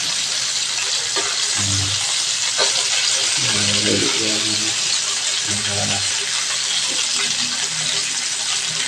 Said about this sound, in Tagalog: Chicken ko sa prito kaya nagprito ako ng konti.